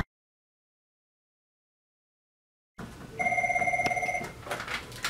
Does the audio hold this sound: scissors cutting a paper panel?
no